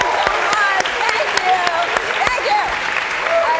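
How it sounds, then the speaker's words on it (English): Loud, sustained audience applause at a televised climate forum, with crowd cheering and voices mixed into the steady clapping throughout. "Big round of applause."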